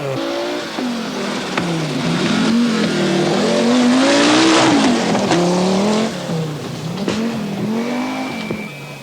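Rally cars race through Wales at night during the 1983 RAC Rally, one loud engine close by revving up and down through the gears with brief tire noise, alone without talk.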